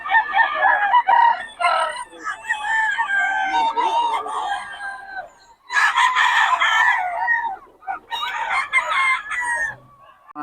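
Young gamecock stags crow repeatedly in bursts, several long rising calls overlapping, close and loud, with brief gaps between rounds and faint clucking in between.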